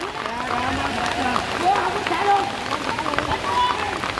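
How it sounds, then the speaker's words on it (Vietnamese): Heavy rain pours during an outdoor ball match as a steady wash of noise beneath a man's loud, excited commentary. "Mưa to rồi."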